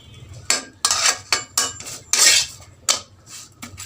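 Roti warming in a pan, heard as a string of sharp metallic clinks and scrapes of utensils against cookware, about seven distinct knocks at uneven intervals, close and fairly loud, with no talking.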